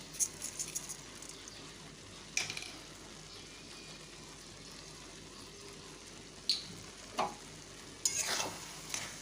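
Gobindobhog rice pulao with sugar added being stirred in a pot, a quiet steady simmering hiss under several distinct scraping strokes of a spoon, close and faint overall.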